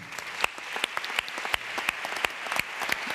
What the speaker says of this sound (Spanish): Un fuerte aplauso para Isabel.